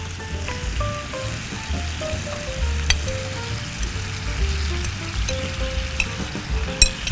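Vegetables sizzle and bubble in a pan of boiling water and oil while rendang rice is cooked in a hotel kitchen, a steady close frying hiss with soft stirring clinks and occasional sharp taps.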